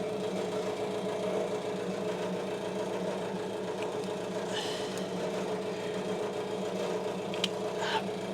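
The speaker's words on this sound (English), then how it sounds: "If you're wondering what that noise is, it's my heater." A space heater runs in a cold garage, giving a steady mechanical hum with a constant rattle at an even level throughout, with a few faint clicks and light handling noises over it.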